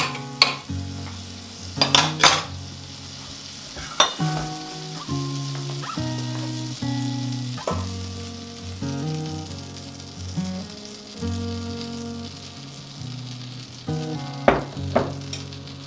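A pancake cooks in a hot skillet with a steady sizzle under tonal background music, broken by a few sharp clinks and knocks.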